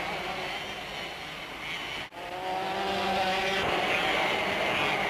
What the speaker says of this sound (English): This is World Championship karting in the town square of Vevey, Switzerland.